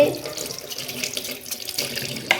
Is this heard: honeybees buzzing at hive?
no